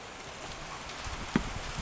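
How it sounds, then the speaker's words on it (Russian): Steady rain in the open, falling on surfaces as a soft continuous patter with one sharper drop-like tap partway through; no talking. "Такой вот уже дождь у нас усиливается и усиливается."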